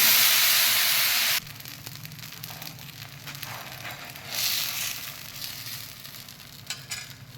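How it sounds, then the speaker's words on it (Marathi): Dosa batter made from barnyard millet (bhagar) for fasting hits a hot oiled tawa with a loud burst of sizzling, then quieter continuous frying hiss with a brief swell midway, no voices. "छान तवा तापलेला आहे तर आता मी डोसे सोडतो"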